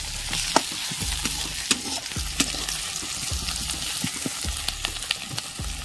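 Chicken and onions frying in a hot pan while being stirred, a steady close sizzle with repeated scraping and stirring knocks throughout.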